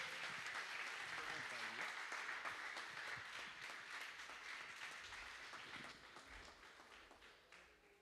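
Worshippers at a live church service clap together, a broad steady applause that gradually fades, with a voice speaking over it at moments.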